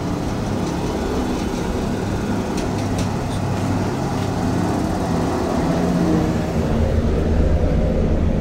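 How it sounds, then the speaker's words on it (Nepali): Steady low rumble of a rear-engine luxury bus, The Lion, running on a Nepali road, a continuous droning engine and road noise that builds slightly louder toward the end, with no voices. "द लायन पछाडि इन्जिन भएको गाडी"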